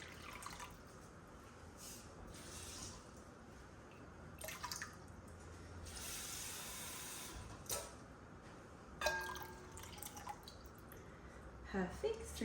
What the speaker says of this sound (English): I'm going to put in 375 grams of water